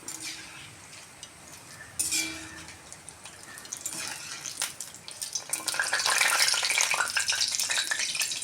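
Breadfruit slices deep-frying in hot oil to make chips, giving a steady bubbling sizzle that swells into a louder, denser crackle over the last few seconds, with a brief scrape near the start and no talking.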